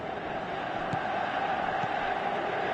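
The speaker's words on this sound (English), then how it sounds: "you can hear how the crowd are reacting to this too" Steady roar of a stadium crowd in a football video game played on PS4, a continuous broadband wash of cheering with brief swells, under faint commentary.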